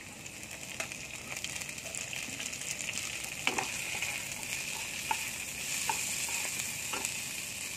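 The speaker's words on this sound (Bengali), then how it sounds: "বিনস গাজরটা ভাজা হয়ে গেছে।" Sliced beans and carrots fry in a pan for chicken fried rice, a steady soft sizzle with occasional spatula taps and scrapes, close and fairly quiet, no talking.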